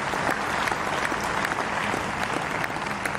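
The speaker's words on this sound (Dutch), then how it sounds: "A groot applaus voor onze runners-up." An audience applauds the runners-up at a wheelchair tennis doubles final, a steady wash of dense clapping that holds even and unbroken throughout.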